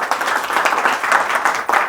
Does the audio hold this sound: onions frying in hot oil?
no